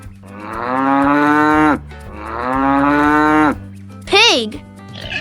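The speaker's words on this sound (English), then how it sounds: "Cow." A cow gives two long, loud, drawn-out moos, close and clear, followed by a short higher bleating call.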